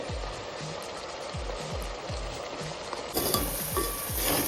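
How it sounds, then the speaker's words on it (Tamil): Eggplant biryani masala being stirred in a pan, with steady sizzling frying and repeated low scraping strokes of a spoon in a regular rhythm, growing brighter and louder toward the end; no talking. "சேர்த்து நல்லா கலரி விட்டுட்டு"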